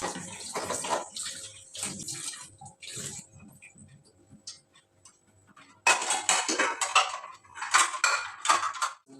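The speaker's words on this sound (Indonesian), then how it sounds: "Dan berhubung karena banyak juga cucian piringnya, jadi akhirnya aku cuci aja sekalian ya teman-teman." Dishes are washed by hand in a home kitchen sink. Plates and cutlery clink and clatter against running water, up close, with a busier burst of clattering near the end and no voices.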